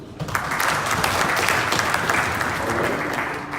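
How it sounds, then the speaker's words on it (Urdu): A sales conference audience breaks into loud, dense applause that starts abruptly and holds steady for a few seconds before easing slightly at the end. "تالیاں ہم سب کے لیے"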